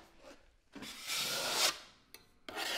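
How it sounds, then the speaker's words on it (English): A drywall knife scrapes joint compound off the edges of a wall repair in several long, harsh rasping strokes, close and loud, separated by brief pauses. "I'm just applying a pressure to one side of the knife, drawing it over, so it's less you have to sand."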